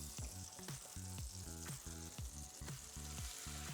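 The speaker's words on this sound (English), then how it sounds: "If you do not hear the sizzle when you put the steak in, the pan is not hot enough." Steak fillets sizzle in melted butter in a hot pan, a steady close frying hiss with repeated rhythmic pulses and clanks over the top, no voices.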